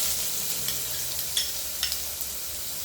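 Crushed ginger, garlic and green chilli sizzle steadily in a hot pan, with a few soft stirring scrapes breaking through the constant frying hiss.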